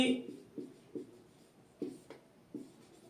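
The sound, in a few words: writing by hand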